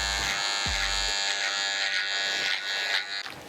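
Electric hair clippers run with a steady close buzz while cutting a skin fade, with short bursts of handling at the start.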